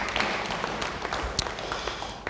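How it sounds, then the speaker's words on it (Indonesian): Church congregation clapping after a call to applaud a member during a sermon, a brief burst of mid-distance applause with scattered sharper claps. "Beri tepuk tangan bagi dia"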